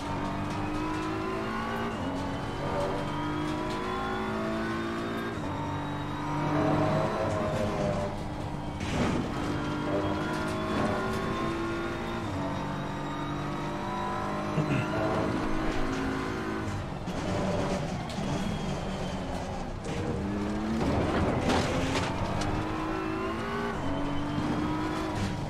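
A race car lapping Laguna Seca in Assetto Corsa Competizione, its engine revving loudly up and down through gear changes in continuous, repeating acceleration and braking cycles, heard alone without talk.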